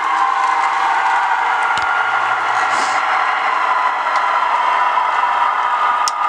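A continuous whirring rumble of an Athearn F59PHi model train locomotive's small motor running steadily, with a faint click or two, no talking.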